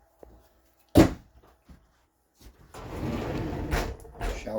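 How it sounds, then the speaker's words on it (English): Shower doors in a 2022 Jayco Eagle RV bathroom swing and latch: a sharp clack near one second, a few soft taps, then a longer rattling slide and bump of the doors, close and fairly loud, with no talking. "Shower doors."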